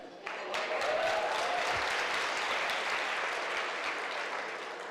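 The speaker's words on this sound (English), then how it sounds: "We have to pick up that applause." Audience applause fills a women's awards luncheon, a broad, steady wash of many hands that swells in quickly and holds at moderate loudness for several seconds without easing.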